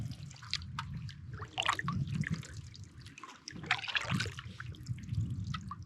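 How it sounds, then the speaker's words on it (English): A canoe paddling along the coast of Tim Lake, with close paddle strokes and dripping, trickling water running steadily throughout under light ambient noise. "Just gonna paddle down the coast a little bit."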